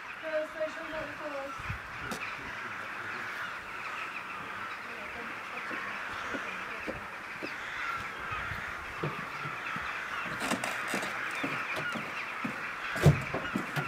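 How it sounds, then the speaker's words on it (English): Many birds calling and cawing together at sunset as they settle for the night, a busy outdoor chorus, steady throughout, with occasional louder calls and faint voices in the background. "all the birds flying and going to settle for the night"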